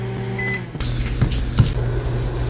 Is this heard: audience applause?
no